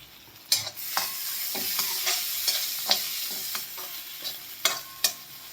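Chopped chilies and tomatoes fry with onion in a hot pan, a soft steady sizzle broken by irregular scraping strokes of a spoon stirring, close and without talk.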